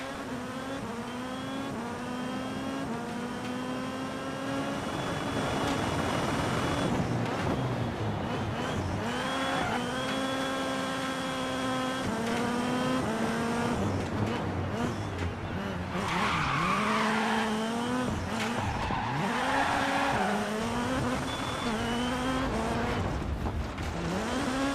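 Rally car in DiRT Rally 2.0 driven on board, engine revving up and down through gear changes with tire skids and squeals, steady and fairly close throughout.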